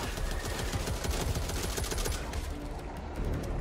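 Rapid automatic gunfire in the zombie shooter game Back 4 Blood, a dense continuous burst of loud overlapping shots with no talk.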